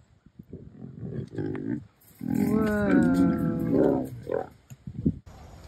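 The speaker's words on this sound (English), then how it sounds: "So this is Cora. He is our one and only orange Bengal tiger here at the sanctuary" An orange Bengal tiger at a sanctuary growls in a long, loud rumbling roar at close range, set between stretches of a person talking before and after.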